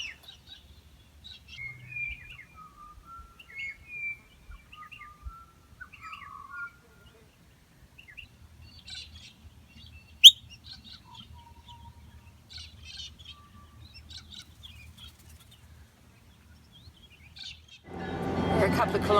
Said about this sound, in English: We were woken the next morning by the lovely sounds of the butcher birds. And then the galahs came back.